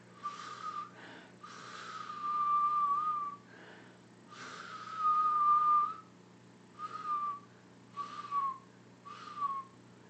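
A person whistles a series of short rising-and-falling notes with breathy gaps between them, close up and moderately loud.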